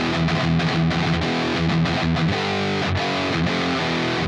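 An overdriven electric guitar runs into an MS Sound Lab Plexi amplifier modelled on a Marshall 1987, strumming loud, gritty distorted chords in a choppy rhythm with brief gaps between hits, and nobody speaking.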